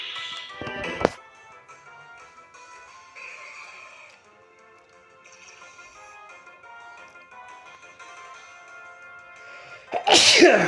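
A sudden sharp sneeze from a person with a cold near the start, then a quiet stretch of faint background tones, ending with another loud, forceful sneeze close by.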